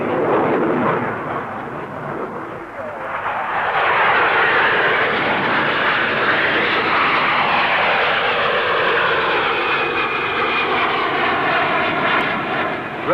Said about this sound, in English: the P-1127, powered by a vector thrust turbofan engine, shows its paces with a neighborly Hunter and demonstrates its high rate of climb and maneuverability